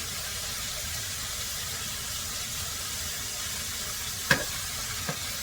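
Garlic added to a hot pan gives a steady, close sizzling hiss that runs throughout, broken near the end by a sharp clink of a utensil and a softer second tap, with no talking.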